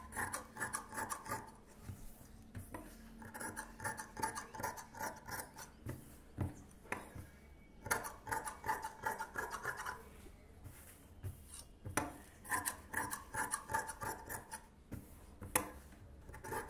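Scissors cutting through silk blouse fabric, a rapid rasping, scraping texture in repeated bursts with short pauses between, close and fairly quiet, no speech.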